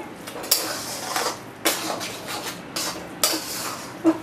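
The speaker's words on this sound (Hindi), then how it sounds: "और इसको अच्छे से मिक्स करना है ताकि ये स्वीटनर पूरे हलवे में लग जाए" Sweetener being mixed into carrot halwa in a pan: repeated metallic spoon clanks and scrapes against the pan in an irregular rhythm, close and clear, with no talking.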